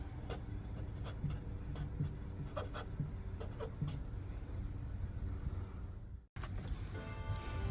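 A Sharpie marker scribbles on drywall in a series of short, dry squeaky strokes in quick bursts, close and fairly faint over a low steady background hum, with a brief cut near the end.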